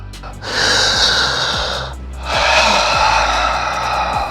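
Slow diaphragmatic breathing, two long airy breaths close to the mic, each rising and holding steady with a short pause between them.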